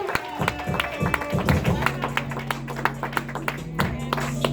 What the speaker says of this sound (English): Clap it up, keep clapping for Scott, man.